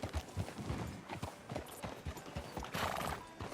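Horse hooves clip-clop in a steady, repeated rhythm in a Red Dead Redemption 2 game scene, each step a distinct thud, with a brief whinny-like burst near the end.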